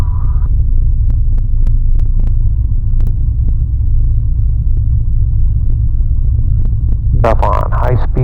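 Zodiac 601/650 light aircraft engine at pulled-back throttle, a loud steady low rumble filling the cabin throughout, with a brief burst of voice near the end.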